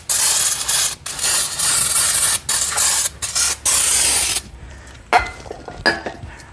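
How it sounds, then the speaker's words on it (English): Cleaner is sprayed onto a rusty rear brake hub of an Audi C7 3.0T, with loud, close hissing bursts broken by short pauses, then quieter clinks and rubbing. "So first thing I'm gonna do is just spray everything down,"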